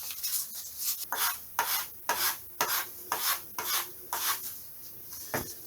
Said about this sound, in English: take it off and sand the fuselage as well